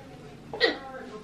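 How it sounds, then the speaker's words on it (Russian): A single short hiccup sounds once, faint and brief in a quiet room. "Опять икаешь?"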